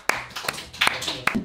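Brief clapping for a quiz round winner, a few sharp claps spread across a second and a half, mixed with a voice talking.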